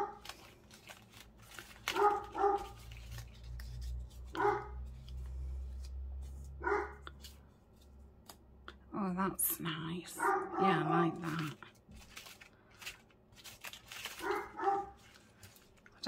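Dog barking at a window indoors, a few short separate barks and yips spread over the stretch, heard under a person talking quietly nearby.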